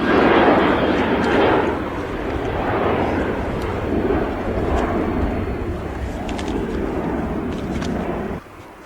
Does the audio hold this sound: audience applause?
no